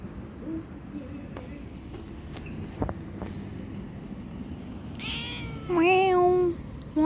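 A cat meows twice near the end, rising and falling, over a low background rumble with a few faint knocks earlier.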